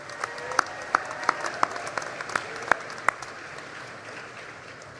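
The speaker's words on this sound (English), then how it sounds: "Join me in thanking them with a round of applause." An audience claps at a spring graduation ceremony, a thin, scattered patter of hands with distinct separate claps rather than a full roar, fading toward the end.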